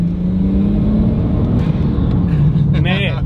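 A Nissan Skyline R33 engine spools up close by, a loud, steady mechanical roar with a rising whine over a low rumble, continuing without a break.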